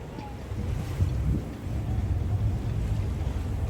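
Strong wind of around 50 knots gusting through a harbor in Croatia, a continuous low roaring rumble with buffeting microphone noise and surging gusts, heard alone.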